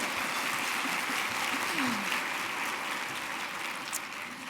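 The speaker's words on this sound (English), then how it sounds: "you want to clap for that?" Scattered applause from an audience, a soft patter of clapping that stays fairly even and fades slightly toward the end.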